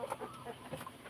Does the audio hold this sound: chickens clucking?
yes